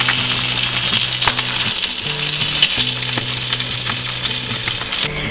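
Thick salmon fillets fry over very high heat, a loud, close, continuous sizzle and crackle with a steady low hum underneath, cutting off abruptly at the end.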